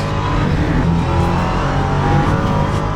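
A Ginetta LMP3 race car in Le Mans Ultimate at Paul Ricard holds a loud, steady engine drone at speed, alone with no talk over it.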